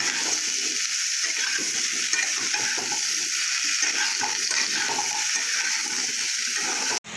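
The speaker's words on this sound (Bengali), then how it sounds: "দিয়ে ওলকপিটা আলুটাকে ভালো করে লাল করে ভেজে দেবো।" Kohlrabi and potato pieces fry with turmeric in a hot wok, giving a steady, close sizzle with the scrape and clatter of stirring throughout, cutting off abruptly near the end; no talking.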